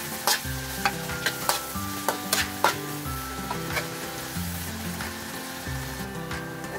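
Garlic frying in a pan for egg fried rice: a steady sizzle with repeated scraping clacks of a utensil stirring, close and fairly loud, with no voices over it.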